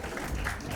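Audience applause at a film trailer launch event on stage, a steady, dense clapping from a crowd that fills the whole short moment without any break.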